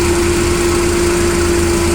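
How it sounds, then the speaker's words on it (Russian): The petrol engine of a 1.5-tonne forklift idles loudly and evenly up close, a steady high hum with a constant droning tone and no voices. "Мотор работает идеально ровно, тихо"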